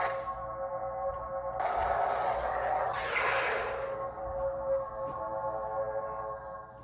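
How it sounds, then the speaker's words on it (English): Lockup effect from a TXQ TS012 lightsaber: a steady electronic hum swells into a crackling, sizzling burst of noise that flares twice and then settles back into the hum, loud and close with no talking. "And then his lockup noise is..."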